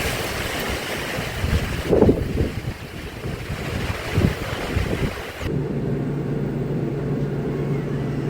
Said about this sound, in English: No wind, and here comes the wind.